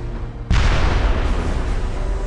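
Siege artillery in Medieval 2 Total War, such as mortars, cannons and a monster bombard, fires with a sudden loud boom that rolls into a sustained rumbling roar, with no talking.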